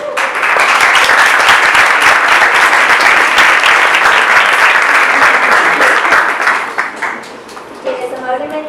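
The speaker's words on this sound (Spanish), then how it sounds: "Les pido un aplauso para ellos." An audience at an interreligious peace and dialogue event bursts into sustained, dense applause that holds steady and loud for several seconds before thinning out toward the end.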